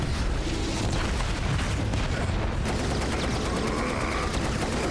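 A flashbang blast in the video game Final Fantasy 7 Rebirth comes as a loud, continuous roar of explosive noise with a dense, booming wash that holds steady throughout.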